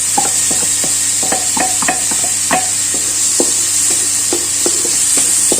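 Chopped garlic sautéing in a pan with onion while being stirred, a steady hiss of frying under repeated clicks and scrapes of a spatula against the pan, close and continuous.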